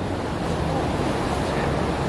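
Sea waves wash in at Watsons Bay in Sydney, a steady, dense roar of surf that holds at one level throughout, mixed with gusty wind buffeting the microphone. No voices are heard.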